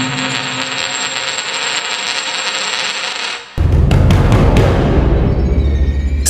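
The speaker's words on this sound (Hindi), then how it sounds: "तभी अचानक से कमरे के अंदर से सिक्के की आवाज आती है।" A single coin drops and rattles inside a room with a metallic spinning clatter, part of an eerie sequence with a steady ambient tone before a sudden louder low rumble; no voices.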